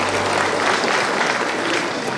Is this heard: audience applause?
yes